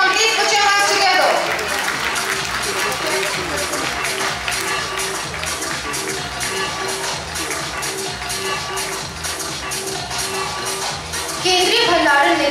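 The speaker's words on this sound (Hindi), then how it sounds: "जोरदार तालियां everyone. Please put your hands together." An audience at an award ceremony, a foundation day prize distribution, breaks into sustained applause, a dense wash of clapping running throughout, with a voice speaking over it.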